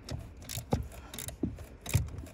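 Ratchet loosening the steering coupler nut on a 2013 Hyundai Elantra GT. Three or four sharp metallic clicking bursts come in an uneven rhythm, up close and fairly quiet.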